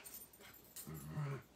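A dog at an outdoor shooting range gives soft whimpers and a low growl, quiet and brief against faint background noise.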